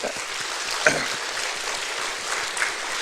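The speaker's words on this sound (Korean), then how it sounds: "박수 한번 쳐드려요." Korean church congregation at Sunday worship applauding visiting missionaries from the Dominican Republic: even, moderate clapping from many hands, steady for about three seconds, a little distant in the room.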